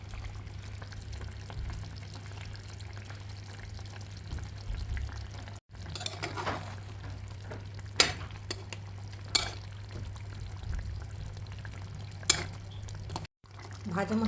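Fried spice paste is added to a simmering Bengali-style fish curry and stirred, giving soft bubbling and scraping under a low steady hum, with a few sharp clinks of the spoon against the pot and quiet talk.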